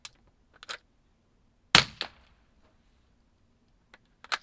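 A .22LR Aguila pistol match round fires once in a sharp, loud crack with a brief echo. Fainter clicks and taps from the gun being handled come before and after it.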